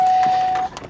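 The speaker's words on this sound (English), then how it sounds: "That damn beeping noise." A steady electronic warning tone from a Mercedes CLS550 holds one pitch for most of the clip, then cuts off, leaving faint background noise.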